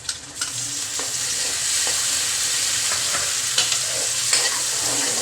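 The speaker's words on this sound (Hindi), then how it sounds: "अब हम इसको अच्छी तरह भूनेंगे, लहसुन अदरक को अच्छी तरह भून लिया।" Garlic, ginger and masala stir-fried in a pan for Punjabi wadiyan, a constant loud hiss and sizzle with occasional scraping strokes of the spoon, recorded close with no talking.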